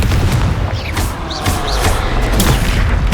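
A Confringo spell explodes in the Hogwarts Legacy video game with loud, rumbling booms and crackling bursts that run on continuously without a break.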